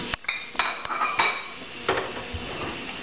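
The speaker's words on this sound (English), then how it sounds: "So we're cutting our fillets into pieces." A knife taps and clinks against a board and dishes while bass fillets are cut into pieces for fish tacos. The contacts come as sharp, irregular knocks close by, with no voice.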